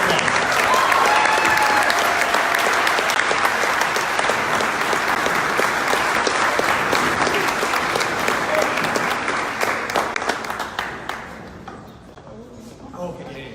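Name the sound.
audience applause at awards ceremony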